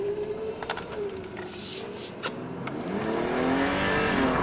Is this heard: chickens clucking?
no